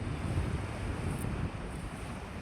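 Sea waves and wind on a beach on Crete Island, a steady broadband roar of surf mixed with gusty wind buffeting the microphone, continuous and fairly loud throughout with no voices.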